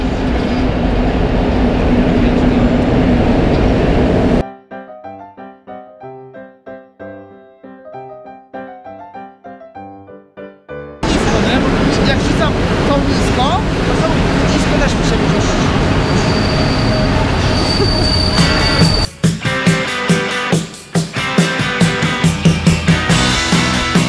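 A train passing at a station, loud rumbling and clattering rail noise with high metallic squeals, interrupted midway by a quieter stretch of music before the rail noise returns and continues.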